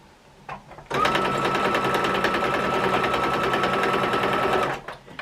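A sewing machine stitches small pieces of quilt fabric in one steady, fast run of about four seconds. It starts abruptly, whirs evenly at close range and then stops, with no talking over it.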